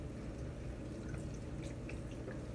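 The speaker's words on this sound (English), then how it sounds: "Pouring it right on in my Instapot." Vegetable broth pours from a container into an Instant Pot, a steady low gurgling splash with faint drips, alone and close.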